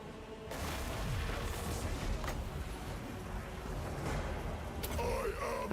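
Soldiers shooting in a Total War: Warhammer battle, distant booming volleys and gunfire rumbling under a busy battlefield din, moderately loud with occasional sharper bursts; faint voices now and then.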